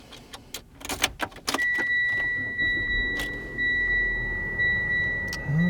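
Keys jangle and clink sharply at the turnkey ignition of a red 2017 Mitsubishi Outlander Sport, a burst of close metallic rattles followed by steady dual-tone chime beeps over low cabin hum.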